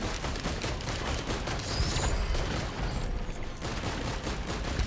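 A fireworks bundle item goes off in a video game, a rapid crackling barrage of bangs with low thumps, loud and continuous for several seconds with no talk.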